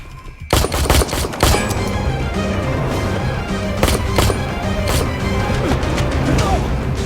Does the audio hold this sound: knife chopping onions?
no